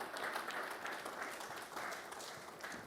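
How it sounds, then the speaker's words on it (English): Faint, scattered applause from a modest group at an award presentation during a presidential summit, with individual claps audible in an uneven patter at some distance. "Let's give them a round of applause again."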